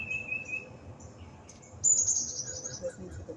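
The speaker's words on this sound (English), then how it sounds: "Listening to the birds and them singing their songs" Birds chirp and sing outdoors in the early morning, with scattered short calls, one brighter burst midway, and faint insect buzz beneath, all fairly quiet.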